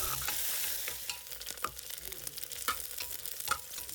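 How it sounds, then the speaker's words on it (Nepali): Onions fry and are stirred in a pan for a drumstick (moringa) curry, a steady close sizzle broken by sharp scraping strokes of the spoon every second or so, with no voices. "प्याजलाई हल्का रातो हुने बेलासम्म फ्राई गर्नुपर्छ।"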